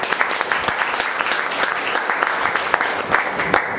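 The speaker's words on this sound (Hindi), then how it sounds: "जितने लोग नए आए हैं एक बार उनके लिए जोरदार तालियां" Dense, steady applause from an audience at a company leaders' training session, welcoming newcomers; many hands clap together loudly and continuously, with no speech over it.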